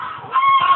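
Four-month-old broiler chickens squabbling over pecking order give one short, loud, close honking squawk.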